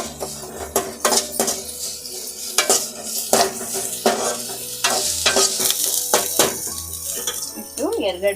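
Onions fry in oil while a utensil stirs them in the pan, a continuous sizzle broken by repeated scraping strokes and light metallic clinks against the pot.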